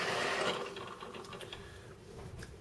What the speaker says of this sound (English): A Z report is then printed out.